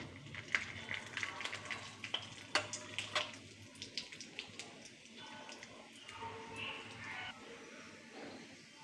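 Urad dal tempering in hot oil for a home-cooked dish, giving a faint, steady sizzle with scattered light crackles and pops, as someone speaks over the cooking.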